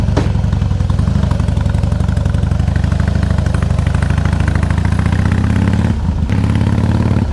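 A Harley-Davidson motorcycle sits close by at a loud, steady idle, its lumpy, throbbing V-twin rhythm continuous, with a brief dip near the end.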